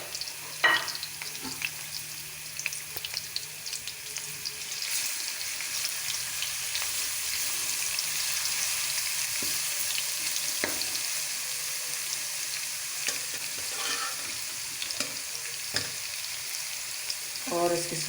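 Garlic and ginger paste fries in hot ghee in a pan with a continuous soft sizzle and crackle, with occasional light clinks of stirring and no talking.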